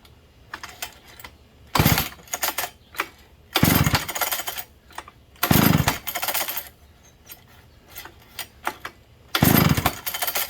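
A McCulloch 91 kart engine being pulled over and catching in brief, loud, ragged bursts of about a second each, separated by quieter mechanical clatter, close to the listener.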